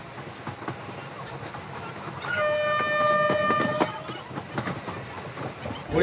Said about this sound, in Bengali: 10 মিনিট দাঁড়ানোর পর পাঁশকুড়া স্টেশন থেকে ট্রেন আমাদের দীঘার জন্য ছেড়ে দিল